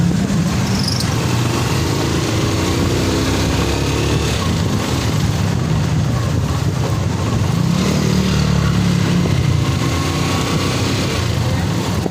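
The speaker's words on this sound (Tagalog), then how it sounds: "Bike motor na yun." Motorcycle engine droning steadily through heavy city traffic, with other vehicle engines mixed in and a rider's voice talking over the continuous rumble.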